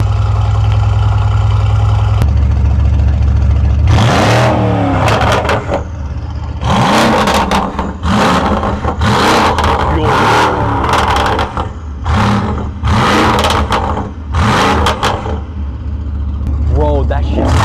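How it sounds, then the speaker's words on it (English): Straight-piped Mercedes-AMG GT engine revving hard in a series of loud, raspy bursts after a rumbling idle, close and dominating, with people talking around it. "Is he gonna rev it?"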